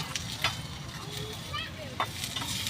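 Turmeric fries in hot oil for a tempering, a steady close sizzle with popping crackles and occasional stirring scrapes, and a faint voice in the background.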